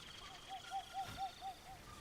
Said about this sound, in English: I hear the owl, but I need to look for the owl in the trees.